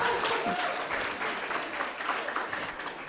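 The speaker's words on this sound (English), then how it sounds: "Let's give it a round of applause to Africa Nazarene University." An audience at a university moot court competition final gives sustained, fairly close applause for Africa Nazarene University, dense clapping that gradually eases over a few seconds.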